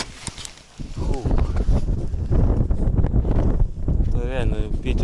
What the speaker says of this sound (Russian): Реально ветер будет еще сильнее.